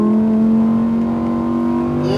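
A Lamborghini Huracan STO accelerates on the SpeedVegas track, its engine a loud, steady, close-up drone that climbs slightly in pitch at the end.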